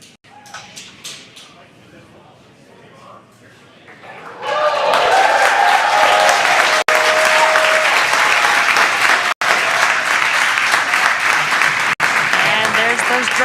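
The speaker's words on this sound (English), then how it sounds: "you can hear the crowd here very excited to see them deploy" A large crowd erupts into loud, sustained cheering and applause as drogue parachutes deploy during a spacecraft's return, rising from a quieter murmur to a dense roar that continues to the end.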